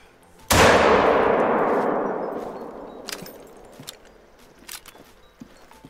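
A single hunting rifle shot fired at an animal in theHunter: Call of the Wild, a loud sharp crack that rolls into a long echoing decay over a couple of seconds, followed by faint scattered ticks and footsteps.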